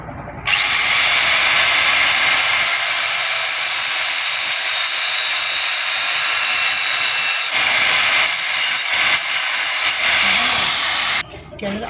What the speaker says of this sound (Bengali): এটা একটু ছোট করতে হবে, তাই আমরা একটু কেটে ছোট করব।